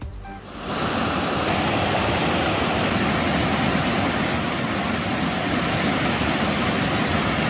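A powerful waterfall in flood roars steadily at close range, a thick, unbroken rush of heavy water with no voices.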